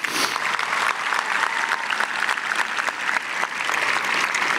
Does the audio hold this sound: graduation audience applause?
yes